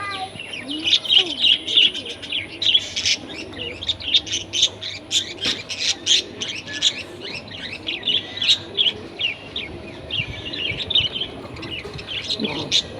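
Pigeons and other birds at a hospital, a busy layer of chirps and soft coos repeating throughout, moderately near over low background hum, with a faint voice now and then.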